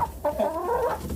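Backyard chickens and a rooster cluck close by in a short burst of throaty, wavering calls, loud and clear with no talking.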